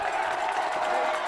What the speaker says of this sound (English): The boys and girls are cheering.